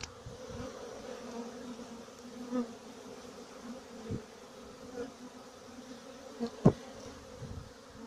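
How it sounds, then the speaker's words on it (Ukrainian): A soft, continuous drone of honeybees hangs in the air outdoors at an apiary during orientation flights, with a few sharp clicks and taps scattered through it. "Гул стоїть на пасіки."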